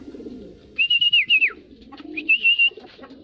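Racing pigeons arriving at the loft after a 21-kilometer flight, with a bird's high whistling call repeated in two bursts over low cooing and soft background murmur, close by.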